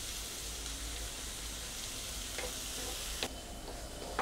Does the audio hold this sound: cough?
no